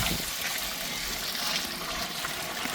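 Water pours steadily into a pot of milk shark biryani being cooked, making a soft, even gushing and splashing rush that runs quietly for a few seconds without speech.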